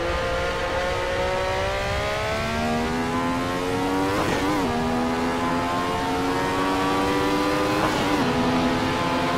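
Car engine echoing in Assetto Corsa VR during an online race, a loud steady drone whose pitch slides gradually upward and then dips at two points, as if shifting gears, with no voices.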